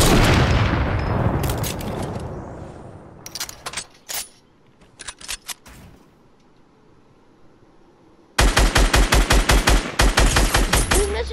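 Rapid automatic gunfire bursts from the Fortnite video game, loud and close, with scattered single shots and a quieter gap before a final sustained volley.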